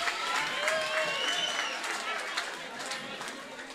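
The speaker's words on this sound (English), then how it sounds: "Give her a round of applause, please." An audience at a women's forum anniversary celebration applauds for a few seconds, moderately loud clapping mixed with crowd chatter and cheering voices.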